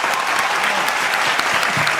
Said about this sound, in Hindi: अब तालियां होनी चाहिए